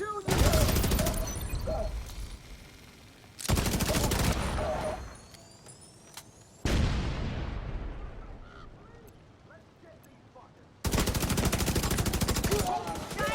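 Heavy automatic gunfire in The Division 2 comes in long loud bursts, with quieter gaps between them and a sweeping whoosh partway through.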